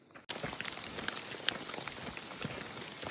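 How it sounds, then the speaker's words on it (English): Hail pelts down steadily on a hiking trail in the mountains, a dense, close patter of icy pellets with occasional sharper ticks, starting abruptly and continuing without talk. "Yay, more hail on the way to Red's Meadow"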